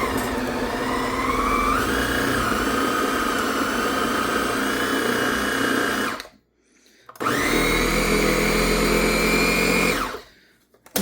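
A kitchen blender whirs steadily on cheesecake ingredients, running loud for about six seconds, stopping briefly, then starting again for another burst before cutting off.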